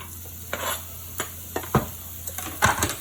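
Onions hit a very hot pan with olive oil, giving a steady sizzle broken by repeated clanks and scrapes of a utensil stirring against the pan, close and fairly loud.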